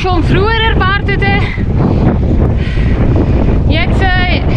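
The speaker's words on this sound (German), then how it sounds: "Und jetzt kommt die Gegenwindpassage leider." Strong headwind buffets the microphone while cycling on a rainy ride toward the Baltic coast, a loud continuous roaring rumble, with someone talking over it at the start and near the end.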